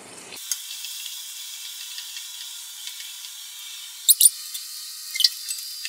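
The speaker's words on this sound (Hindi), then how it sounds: "अब मैं इसके अंदर प्याज डाल रही हूँ" Onions dropped into hot oil in a pot for pulao, a faint thin crackling sizzle after a brief rustle at the start, with scattered small pops and a few sharper spatters.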